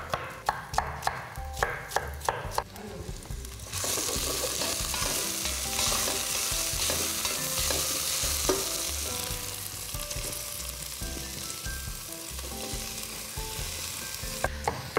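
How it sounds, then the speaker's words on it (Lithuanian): Sweet red pepper frying with onions and garlic in a pan, a steady close sizzle after a few sharp knocks and stirring clatters at the start, with no talking. "Saldžioji paprika kepa sau smagiai"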